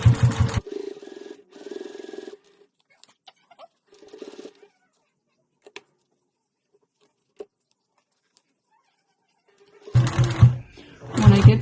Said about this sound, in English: start sewing, then back stitch